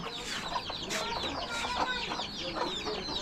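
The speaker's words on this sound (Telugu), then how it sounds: "మొత్తం కోళ్ళే కోళ్ళు ఉన్నాయి ఇక్కడ" Chickens cluck and squawk repeatedly in a busy, fairly quiet barnyard chorus, with short overlapping calls throughout.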